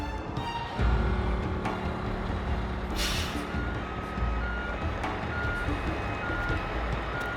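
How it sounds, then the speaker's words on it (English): A large truck backs up, its reversing alarm beeping steadily and loud over a low engine rumble. A brief hiss of air brakes cuts through partway, and no voices are heard. "Now we get to you, we're gonna back up and you gotta follow in our tracks."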